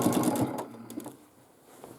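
Domestic sewing machine quilting a large diamond block on a big quilt, a soft, fast mechanical stitching chatter that runs briefly and then fades into quiet room tone.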